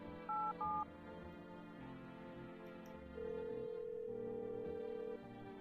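A telephone calling tone in the video game No, I'm Not A Human: two short electronic beeps, then a longer sustained tone over faint, low background game music.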